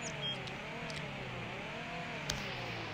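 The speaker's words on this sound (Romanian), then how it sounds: "Mamă, cum face mașina asta?" A car engine idling steadily at a low, even rumble, fairly quiet and continuous, with one brief sharp click partway through.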